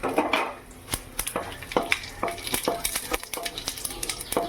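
Dry chilli, bay leaf and five-spice seeds are stirred in hot mustard oil in a pan, with a spatula scraping and clinking in a steady uneven rhythm over a soft sizzle, close and clear.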